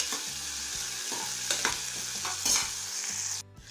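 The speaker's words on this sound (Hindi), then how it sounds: "अब इसमें हम आलू को डाल देते हैं और प्याज के साथ ही आलू को भी भून लेते हैं।" Potatoes and onions sizzle together in hot oil in a pan for cabbage curry, a steady close hiss with rhythmic spoon scrapes against the pan, ending abruptly.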